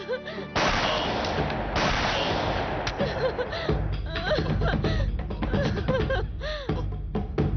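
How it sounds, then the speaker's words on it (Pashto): Two loud gunshot blasts crack out close together in a tense crime drama scene, and excited voices talk over the noise afterward. "د ډز غږ شو"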